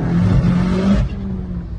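Turbosmart dump valve on a tuned 600 hp VW Polo, a loud, close, breathy whoosh of air with engine rumble underneath that drops off abruptly after about a second and fades into a softer hiss.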